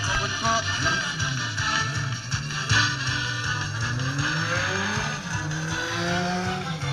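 A motorcycle engine runs and revs at a sidecar show, with rising and falling pitch sweeps and tire squeal over a rough mechanical drone, loud and close, with no talk.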